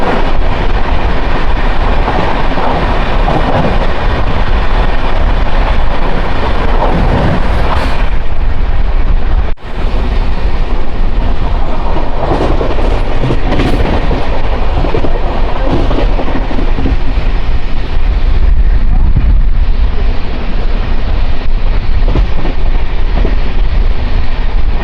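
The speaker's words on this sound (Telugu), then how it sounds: "నాగర్కోవిల్ నుంచి ముంబై ఎల్టీటీ వరకు వెళ్ళే ఎక్స్ప్రెస్ ట్రైన్" Express train 16340 from Nagercoil to Mumbai LTT rushing past at speed, a loud, continuous roar of wheels and rail noise with a brief dip midway, close and unbroken for the whole stretch.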